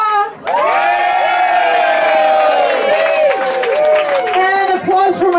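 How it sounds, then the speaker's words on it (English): Loud cheers and whoops rise from a festival audience at a drinking-glass contest, long sustained shouts ringing over continuous clapping after a brief quiet start. "Applause for Laura."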